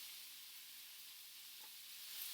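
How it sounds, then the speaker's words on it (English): A stir fry sizzles in a pan with a steady, soft, unbroken frying hiss, close by and with no voices over it. "you can see how it's sizzling"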